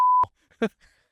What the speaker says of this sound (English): I promise you we will beep this